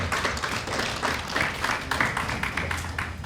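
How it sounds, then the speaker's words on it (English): At a Ghanaian Muslim entrepreneurs' business summit, the audience claps for the event's partners: a dense, close round of many hands with rapid irregular slaps, steady and loud, with no talking over it. "Ladies and gentlemen, a round of applause for our partners."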